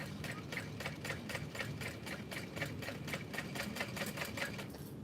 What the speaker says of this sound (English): So coming in from my original line of stitching,